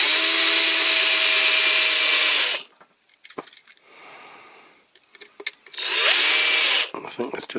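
A power drill whirs loudly for a couple of seconds on a workbench during a die-cast toy restoration, stops for some clattering and handling noises, then runs again in a second burst.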